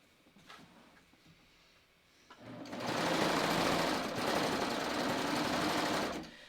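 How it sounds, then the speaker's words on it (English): A domestic sewing machine stitches down one side of a lined garment neckline toward the V, starting after a quiet pause and running fast and steady for about four seconds before stopping. "I'm going to stitch down one side of the neckline to the V."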